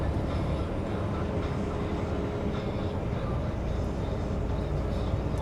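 A Via Rail passenger train rumbles past nearby, a steady broad roar of wheels and engine that holds loud and even throughout.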